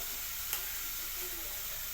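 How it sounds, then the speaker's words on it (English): Chicken and rice sizzle steadily on a stovetop, a soft, even frying hiss heard alone with one brief clink partway through. "Yeah, that sizzle. Little sizzle there."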